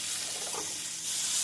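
Steady sizzling and frying hiss of onion, garlic and ginger sautéing in a hot pan, with a faint stirring scrape partway through and no voices.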